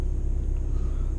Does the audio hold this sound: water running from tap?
no